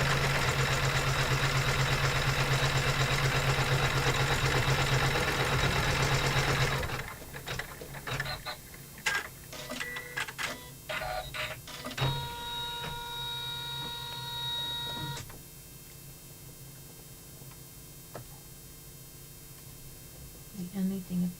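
An embroidery machine stitches lettering onto a laptop bag, a steady mechanical whir with a run of faint rhythmic clicks in the second half, after a louder opening stretch of broadband noise.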